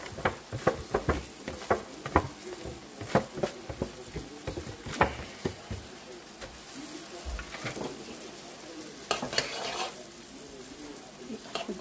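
Onions and ground beef sizzle and fry steadily in a pan for beef and bean burritos. A spoon stirs and scrapes the pan now and then, sending sharp clacks over the continuous frying noise.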